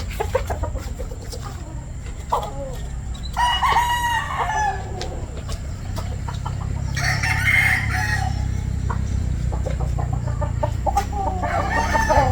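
A Sweater Gilmore gamefowl rooster, straight comb, crows loudly several times and clucks in between, close up with no talking.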